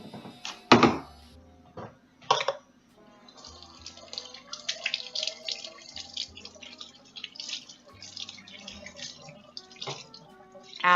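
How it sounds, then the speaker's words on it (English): Dishes being washed up in a kitchen sink under running water, with clinking crockery, splashing and trickling tap water throughout, a couple of louder clattering knocks near the start, close and clear. "the sweet, sweet sounds of ASMR washing up"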